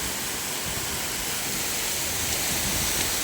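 Waterfall spray falling on a rocky, slippery path at a small waterfall near Arur, heard as a dense, steady rushing hiss that fills the whole moment without a break.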